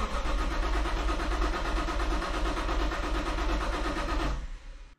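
Lexus IS200 fitted with a Speeduino engine management unit cranks on the starter in a steady, rhythmic churn, loud and close, before it stops abruptly near the end.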